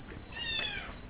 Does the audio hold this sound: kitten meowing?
yes